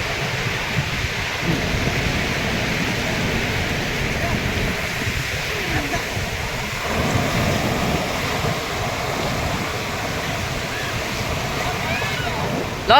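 Steady roar of sea waves breaking at Panambur, a dense, continuous wash of surf that swells slightly in places and never lets up.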